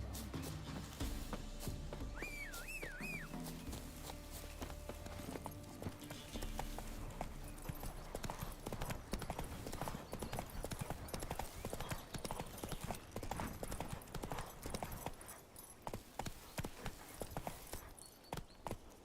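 Roach the horse gallops in The Witcher 3 video game, a rapid, steady clip-clop of hooves building from a slower gait into a continuous run, close and fairly loud, with a brief whinny early on.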